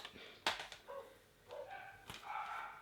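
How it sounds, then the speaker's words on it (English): Dogs bark in a few quick, sharp bursts at a moderate distance, with short yelps and pauses between them. "If you hear like barking in the background, that's my dogs going nuts."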